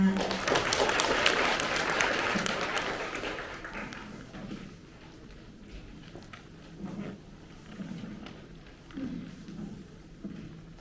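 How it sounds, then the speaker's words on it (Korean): Audience applause at a Ministry of Defence recruitment briefing for 2025 regional-talent grade-9 civil servants, a dense clapping wash for the first few seconds that thins into scattered claps and room noise. "큰 박수 부탁드립니다."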